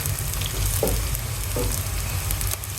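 Steady, close sizzling of chicken frying in a hot pan with browned onion and garlic-ginger paste, with a couple of soft stirring scrapes breaking through the constant hiss.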